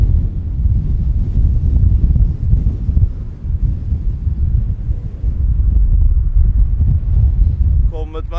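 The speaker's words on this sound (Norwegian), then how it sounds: "Her var det mye vind." Strong wind buffets the microphone in a steady, loud roar on an open coastal stretch at Ramberg, Norway, in cold, frosty weather, continuous throughout with only brief dips.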